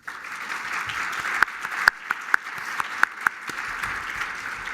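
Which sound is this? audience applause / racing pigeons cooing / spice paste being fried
audience applause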